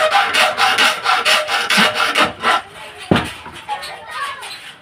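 A hand file rasps against an aluminum cabinet door frame in steady back-and-forth strokes, loud and close, followed by a sharp knock and softer scraping.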